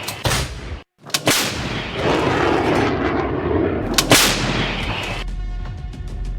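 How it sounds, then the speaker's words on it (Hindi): Explosions from missile and bomber strikes in a war zone: loud, sharp blasts with broadband roaring rumble between them, several separate impacts over the stretch, with no speech. "ये धमाके अभी और तूफानी होंगे"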